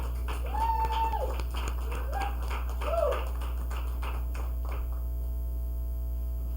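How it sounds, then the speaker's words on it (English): A comedy show audience claps in scattered, uneven taps under a strong steady electrical hum, with a few brief whooping voices early on before the clapping thins out. "Please give a huge round of applause"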